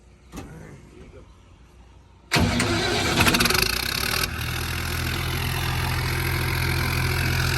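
A car engine, fitted with a new silencer, cranks and fires abruptly after a quiet stretch, then settles into a loud, steady idle close by.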